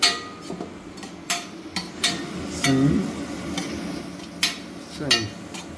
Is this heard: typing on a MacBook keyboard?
no